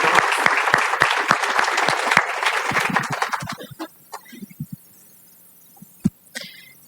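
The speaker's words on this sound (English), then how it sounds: "Can we give her a round of applause for sharing that?" Audience applause at a luncheon, a dense round of clapping that thins out after a few seconds into scattered claps and small room noises.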